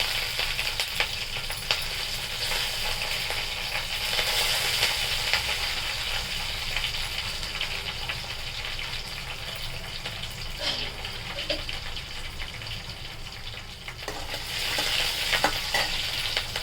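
Green chillies and curry leaves sizzle and fry steadily in hot oil in a pan, a continuous bright crackle with occasional stirring scrapes and a few louder spatters throughout.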